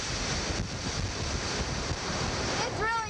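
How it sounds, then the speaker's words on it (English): Hurricane winds roar and buffet the microphone over crashing surf, a loud continuous rushing storm noise with no break. "It's really windy."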